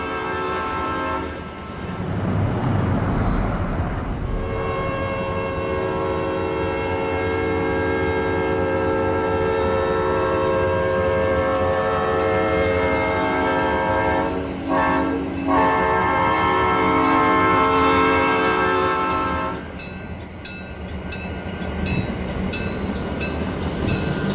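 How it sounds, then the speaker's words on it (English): An eastbound California Zephyr passenger train, number 18, street-running down 3rd Street in Oakland, sounds a loud, sustained multi-note horn over the rumble and clatter of rolling cars, with the horn breaking off briefly before blowing again. "An eastbound California Zephyr, train number 18, works its way down 3rd Street."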